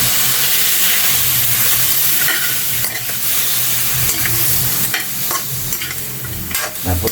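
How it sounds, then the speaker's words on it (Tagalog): Tuna adobo cooked with chili leaves is stirred in a hot pan, a constant loud sizzle broken by repeated scraping and clattering strokes of the spoon. "Haluin natin."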